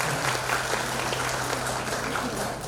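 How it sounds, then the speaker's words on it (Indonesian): An audience applauding at a joint Christmas celebration held by a civil servants' association, a steady and dense wash of clapping from a large crowd, with faint voices underneath. "Tepuk tangan yang meriah buat Bapak Ibu sekalian."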